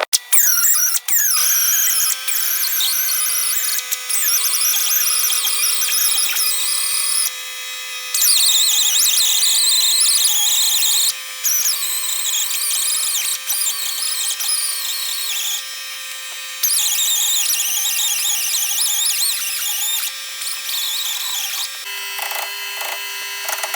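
A Snap-on cutting tool whirs steadily through a Jeep CJ leaf spring bushing hole, a loud sustained high-pitched grinding with brief dips and a pitch change near the end, no voices.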